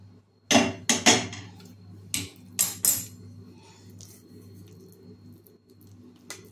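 Thick gooseberry candy mixture scraped and tapped into a ghee-greased pan: a few sharp utensil knocks against metal in quick pairs, then soft spreading scrapes, close and quiet between hits.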